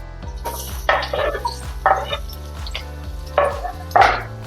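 Tomatoes, chillies and ginger go into a hot pan for an onion- and garlic-free Punjabi paneer-cashew sabzi, bringing short sizzling bursts and several sharp utensil clanks against the pan, close and with no speech.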